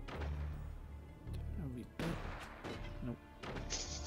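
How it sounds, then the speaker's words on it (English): Mortar fire in the physics-based fort-building game Forts: several heavy thumps and crashes land in irregular succession at moderate loudness, mixed with other game effects and a player talking over them. "Mortars."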